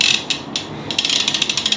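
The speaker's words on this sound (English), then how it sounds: "Is anybody getting annoyed with this hub noise?" The freewheeling rear hub of a Specialized Allez Sprint Comp road bike ratchets during a post-ride cleaning, giving a loud close run of rapid metallic clicks that pauses briefly and then speeds up again as the wheel spins.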